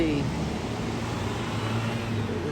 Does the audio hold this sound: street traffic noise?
yes